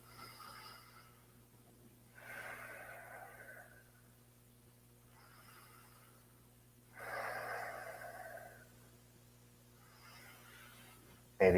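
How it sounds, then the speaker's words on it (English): Strong, deep breaths during Ashtanga yoga come in slow, rhythmic waves, with four or five long breathy exhales rising and fading at close range and no talking. "Breath is strong and deep."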